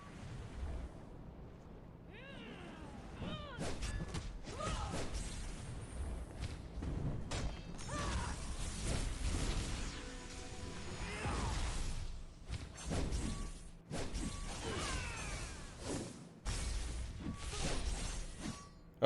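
A special attack fires in the mobile game Bloodline: Heroes of Lithas, a run of whooshing swishes and heavy booming blasts layered over steady game background for nearly twenty seconds.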